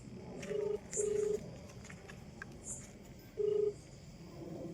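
A telephone keypad sends three short dialing tones in a steady, spaced pattern, close and clear over a low background hum, during a comedic phone call scene.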